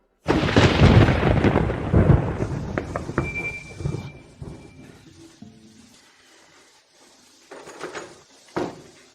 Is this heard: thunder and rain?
yes